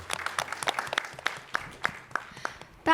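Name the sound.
audience applause for the new committee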